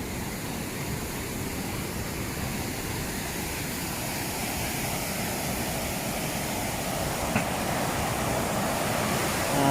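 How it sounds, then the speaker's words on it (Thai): Water rushes steadily through an open spillway gate at a Thai diversion dam, a loud, unbroken roar that holds level throughout with no voices. "ช่องนี้เปิดให้ระบายน้ำให้น้ำไหล"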